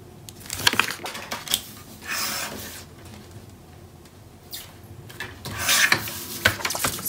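Scissors or a trimmer cutting a paper piece for a handmade mini album, giving soft rasping, rubbing strokes in short bursts with light tapping between them, close and fairly quiet.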